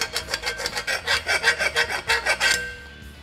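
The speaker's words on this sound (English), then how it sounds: "So now we're gonna take a file and go ahead and clean this outer section up." Hand file rasping metal tabs on a Jeep Wrangler JK lower control arm mount, about fifteen quick rhythmic strokes up close, fading out at the end.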